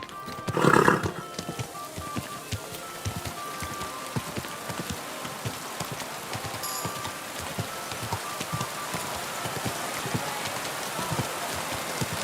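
A horse neighs once near the start in Kingdom Come: Deliverance II, followed by steady clip-clopping hooves over a constant patter of rain.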